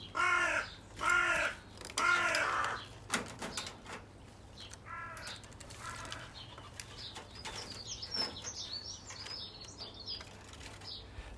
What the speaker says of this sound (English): Lots of crowing today as well.